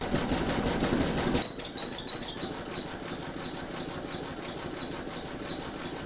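An embroidery sewing machine runs a satin stitch border on a shamrock pot holder, a loud dense mechanical hum that drops in level after about a second and then keeps a steady, even whirr with faint ticks, with no voices.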